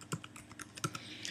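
Quick, close clicks of typing on a computer keyboard while a word is entered during a WordPress tutorial, a brief irregular run of keystrokes with no talking.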